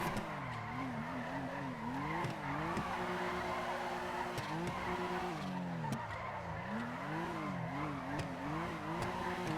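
A car in the video game FiveM on a drift server brakes hard into a drift, tires squealing in long wavering, rising and falling tones over a constant engine drone, with no talk.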